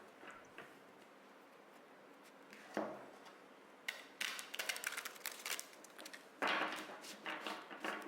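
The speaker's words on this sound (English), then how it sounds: "I'm gonna shuffle the cards until I feel the deck is ready" Tarot cards being shuffled by hand, heard as quiet irregular riffling and flicking bursts that grow busier toward the end, with soft taps between them.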